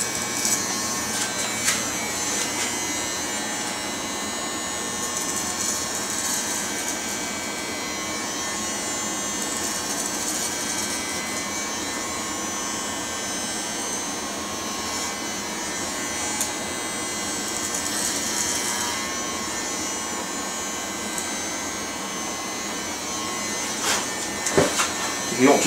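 Electric hair trimmer working at a barber shop, a steady buzzing hum that runs continuously for the whole stretch, with background chatter and room noise beneath it.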